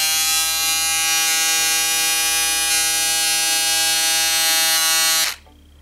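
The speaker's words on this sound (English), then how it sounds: "now I'll turn on the shaver just so you can hear the volume of how loud it is" An Andis Profoil Lithium Titanium electric foil shaver hums loudly and steadily with a bright buzzing whine, then switches off near the end, leaving faint background.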